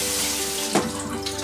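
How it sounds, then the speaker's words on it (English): Cold tap water runs steadily over cooked udon noodles in a kitchen sink, a loud, continuous close rush with a brief splashy surge midway. "As I normally do, I'm gonna shock it with some cold water"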